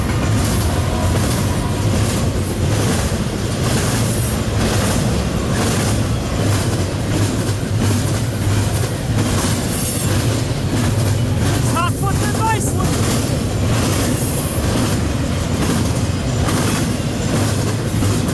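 CN freight train Q199, an intermodal train bound for Prince Rupert led by AC44C6M locomotive 3398, passes close by at Ladysmith, Wisconsin, with a steady loud rumble of railcars and wheel clatter throughout and a brief squeal near the end.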